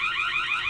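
A Tapo C210 security camera sounds its person-detection alarm, a steady, close warbling siren that repeats in fast cycles and plays alone.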